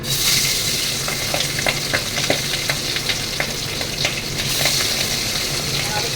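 Tangra fish fry in hot oil with a dense, steady sizzle dotted by frequent sharp pops and crackles, close and fairly loud, with no voices over it.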